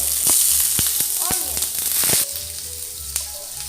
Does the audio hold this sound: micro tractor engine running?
no